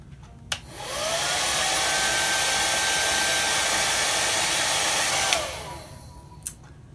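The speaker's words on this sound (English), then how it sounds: "So to help it along, I'm going to use my blow dryer." A hair dryer switches on and runs steadily with a loud whooshing roar for several seconds, then cuts off, with small clicks before and after.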